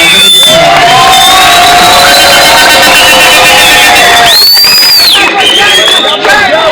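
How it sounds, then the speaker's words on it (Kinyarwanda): A loud crowd cheers and shouts continuously, with high whoops and excited voices rising over a dense roar; clapping is not clearly distinct within the noise. "mubanze mukomera amashyi menshi cyane aba bagenzi bacu"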